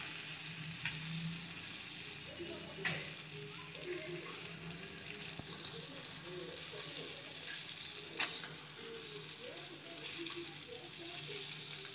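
Fish sizzles and fries in a pan of oil for a Tamil fish fry, a steady crackling hiss with occasional stirring and scraping sounds, fairly quiet and close.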